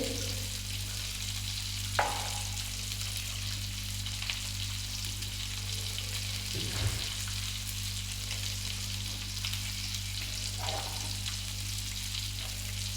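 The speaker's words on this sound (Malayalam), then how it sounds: "മീൻ പൊരിക്കാൻ വെച്ചത് ആയിക്കൊണ്ട് നിൽക്കുന്നുണ്ട്" Fish frying in a pan on a home stove for a curry, a continuous soft crackling sizzle heard alone with a steady low hum underneath and a few faint clinks.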